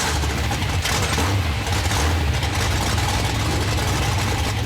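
Car engine running on a freshly fitted starter motor, a steady loud low rumble and idle with a rough mid-range throb filling the whole stretch, close and continuous without any voices.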